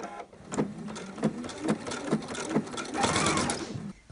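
A sewing machine stitches the side seams of a shirt made of Liberty fabric. Its motor whirs in a quick series of uneven bursts with rhythmic needle thumps, close and fairly quiet, with no voices.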